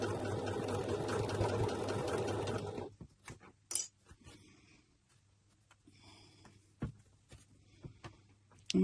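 A sewing machine stitches a seatbelt shoulder strap in a fast, steady whirring run for about three seconds, then stops, leaving faint clicks and handling noises.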